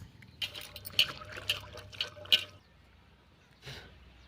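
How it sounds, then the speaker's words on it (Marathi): Water is poured into a container to rinse double beans, in a short burst of splashing and trickling, with a quieter splash a moment later. "आता पाणी टाकूया आपण"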